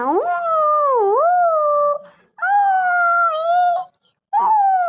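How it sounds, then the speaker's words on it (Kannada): Street dogs howl at night in long, wavering drawn-out cries, three separate howls with short pauses between, fairly close and clear. "ಯಾಕೋ ನಾಯಿ ಭಾಳ ಬಗ್ಳಾಕತ್ತಾವು"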